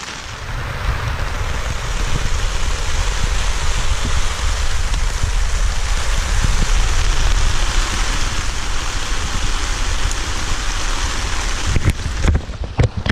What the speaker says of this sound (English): the rain's running off the back of the tarp